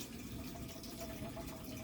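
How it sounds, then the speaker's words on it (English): A cooking pot is filled from a running water tap inside a small truck camper, giving a steady, continuous rush of water that stays moderately faint throughout without any talk over it. "Fill this pot up with water and heat it up."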